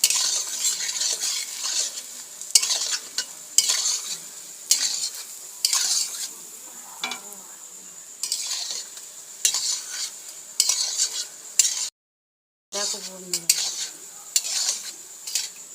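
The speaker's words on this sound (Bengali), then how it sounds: "বড়াগুলো উল্টে দিচ্ছি বড়াগুলো সারাক্ষণ এভাবে নাড়তে হবে" Palm fritters (taler bora) frying in hot oil while being turned and stirred, a steady sizzle broken by repeated scraping strokes of a utensil, close and clear, with a brief dropout and a few spoken words.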